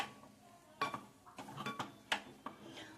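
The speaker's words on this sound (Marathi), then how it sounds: "आणि हे असं हलवून घ्यायचं साधारणपणे 2 मिनिटात" A spoon stirs matar upma in a pan, producing quiet irregular metallic clinks and scrapes against the pan.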